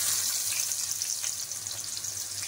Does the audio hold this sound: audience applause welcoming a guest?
no